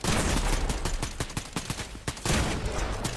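Rapid gunfire from a multiplayer video game shootout: loud bursts of automatic shots crackle in quick succession, broken by a brief pause, with no one speaking.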